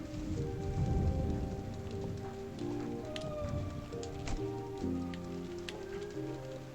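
Rain falling in a video game, a steady patter of drops on surfaces mixed with faint background music tones and occasional sharp clicks, continuous and without talk.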